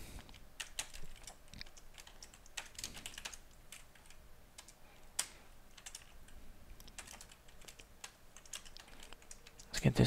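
Lua code is typed on a computer keyboard, a close, quiet run of irregular key clicks and taps, with a few louder keystrokes scattered throughout.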